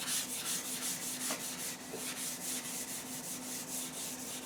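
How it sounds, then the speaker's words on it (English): Dry sandpaper lightly rubbing rough spots on a car spoiler, quick even back-and-forth strokes forming a steady scratchy rhythm, close and fairly quiet with no voices. "So I'm just going to lightly sand the rough spots off of this spoiler."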